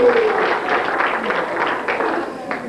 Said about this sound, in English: Let's give a warm round of applause to Barney!